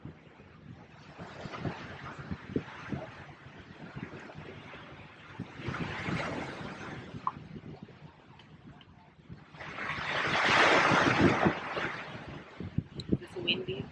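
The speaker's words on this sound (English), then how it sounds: "It's windy." Wind buffeting the microphone at Dania Beach in Fort Lauderdale, rising in strong gusts, the loudest near the end, with someone talking over it at times.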